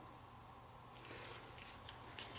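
Scissors hand-cutting small and large paper flowers and leaves for a handmade card: several faint, quick snips in irregular succession over a low steady background hum.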